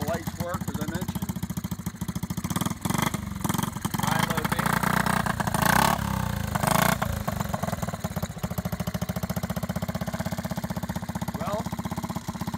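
A 1970 Honda Z50 mini trail motorcycle engine runs steadily nearby with a fast, even idle putter, a couple of brief louder revs in the middle, and someone talking over it.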